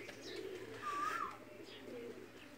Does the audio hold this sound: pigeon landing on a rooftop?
yes